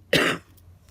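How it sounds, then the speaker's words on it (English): One sharp cough close to the microphone, a brief burst followed by quiet. "I apologize for coughing"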